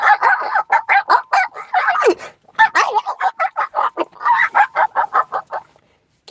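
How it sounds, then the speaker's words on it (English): Rapid, high-pitched yapping from a Chihuahua, a steady run of sharp barks with brief pauses, fairly close and loud, no talking. "run around just barking all the time for no fucking reason."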